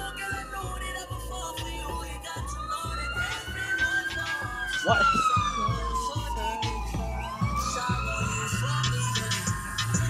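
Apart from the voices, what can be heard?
emergency vehicle siren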